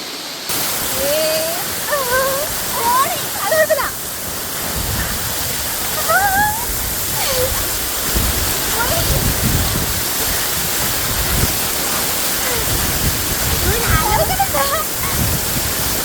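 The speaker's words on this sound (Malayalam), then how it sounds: "ഇത്രയും കിടിലൻ വാട്ടർഫോൾസ് ഇവിടെ ഉണ്ടായിട്ട്" Kokkoli waterfall at Poovam, Padiyoor in Kannur sends up a steady, full roar of rushing water that lasts throughout, with people's voices talking over it at moments.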